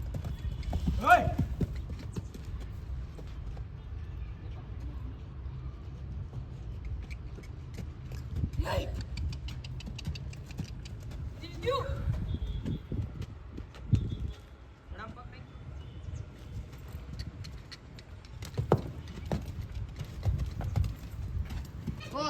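Steady clip-clopping of horse hooves continues for over twenty seconds, a few sharper louder strikes standing out, while people talk faintly in the background and ambient outdoor noise fills the scene.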